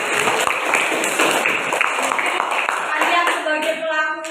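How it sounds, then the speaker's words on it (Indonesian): An audience claps and applauds after group presentations at a business training session, a dense burst of hand claps that trails off over a few seconds, mixed with faint voices. "Kasih aplaus dulu."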